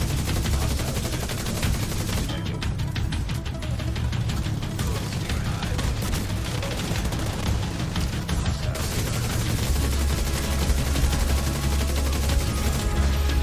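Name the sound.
gunfire in The Division 2 video game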